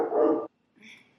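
A pet dog barks once, loud and close, then after a short pause gives a softer, higher yelp or whine.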